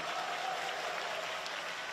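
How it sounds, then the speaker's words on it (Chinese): Applause from an audience greeting a diving team at a Chinese national diving team visit in Hong Kong, a steady dense wash of clapping held evenly throughout. "大家俾热烈嘅掌声好唔"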